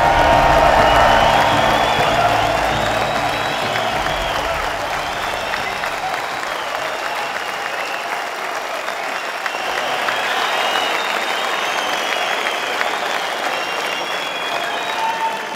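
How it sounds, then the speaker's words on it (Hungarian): A large rally crowd at a Hungarian Socialist Party event in Budapest Sportaréna claps and cheers loudly, sustained applause with whoops rolling on for over fifteen seconds, swelling again partway through. "mutassuk meg a tapsunkkal és hangunkkal, hogy mennyien vagyunk ma itt a Magyar Szocialista Párt rendezvényén"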